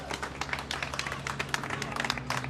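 Audience applause for Benjamin Crump at a Chicago event, a dense, steady patter of many hands clapping close by with crowd noise mixed in, lasting a few seconds without a break.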